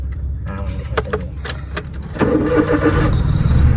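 Keys jangle and click in the ignition before a car engine cranks and catches during a driving lesson, settling into a close, steady idle for the final second and a half.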